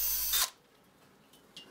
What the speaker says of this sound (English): Drill a shallow hole at each end of the wood for the spikes on the spur and live centers